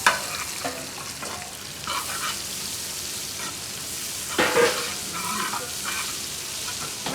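Half a kilo of onions frying and being stirred in a pan for hotel-style beef fry, a steady close sizzle with scraping stir strokes throughout and a louder burst partway through.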